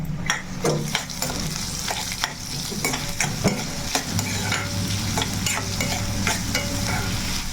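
Garelu, lentil vadas, frying in oil, a loud busy sizzle broken by repeated sharp scraping and stirring clatters at an irregular pace.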